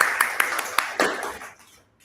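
An audience applauds at a stage session in the Titan Room: a short, thin patter of a few claps with sharper individual strikes, fading out within two seconds.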